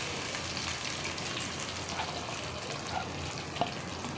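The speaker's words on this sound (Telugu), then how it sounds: "పచ్చిమిరపకాయలు ఫ్రై అయ్యాయి కదా, దీంట్లో ఇప్పుడు మనం ఆనియన్స్ వేసుకుందాము." Onions go into a pan of frying green chillies, giving a steady, fairly loud hiss and crackle of sizzling oil throughout with a few small pops.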